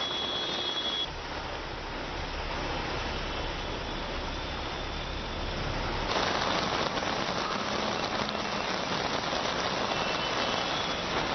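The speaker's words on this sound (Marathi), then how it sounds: "सीएसएमटी भागामध्ये तुफान पाऊस होता" Heavy monsoon rain pours down in the CSMT area of Mumbai, a steady, dense hiss that runs throughout and grows slightly louder and fuller partway through.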